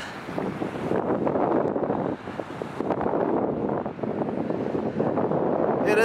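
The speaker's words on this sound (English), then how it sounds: "It is quite windy, but it's not too bad at all." Strong wind buffets the microphone outdoors near water in Queenstown, a continuous rough roar that swells and dips, with faint talk mixed in.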